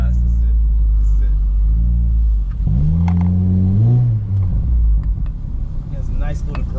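A car fitted with a Skunk2 exhaust idles with a deep, low rumble, then revs up in a rising growl and settles back down, loud and close.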